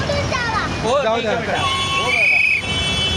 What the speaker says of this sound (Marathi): दे शिटी मार